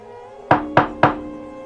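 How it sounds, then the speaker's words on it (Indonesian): Three sharp, evenly spaced knocks on the door of a fairly large house, close and distinct against a quiet background with no voices. "Dito terus mengetuk pintu rumah itu"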